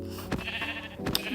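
A sheep in a video game bleats twice in short, wavering bursts, close and fairly loud over a faint background.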